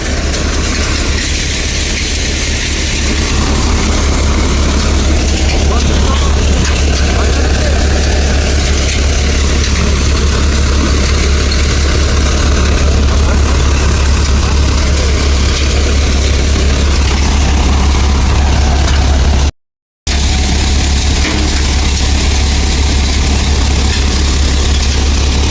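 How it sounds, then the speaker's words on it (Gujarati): A tractor engine runs at a steady, low idle throughout while chickpeas are loaded straight into its trolley. The rumble is continuous and fairly loud, with no speech. "ટ્રેક્ટર આવી ગયું, ડાયરેક્ટ ટ્રોલીમાં જ ભર્યો."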